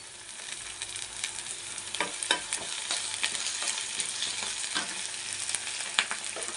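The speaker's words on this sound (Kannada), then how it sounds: "ಇದೊಂದು ಸ್ವಲ್ಪ ಫ್ರೈ ಆಗಲಿ ನಾನು ಕರ್ಬೇವಿನ ಸೊಪ್ಪು ಹಾಕೋತಾ ಇದ್ದೀನಿ" Curry leaves sizzling in hot oil in a pan while a vegetable dish is cooked, a constant crackling fry broken by several sharp pops and spatters, close by and without any talk.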